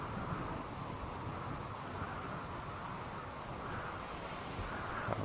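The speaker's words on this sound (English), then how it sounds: "And here's the rain." Steady rain falls in the RimWorld video game as a dense, even hiss of noise with a low rumble beneath, unbroken from start to finish at a moderate level.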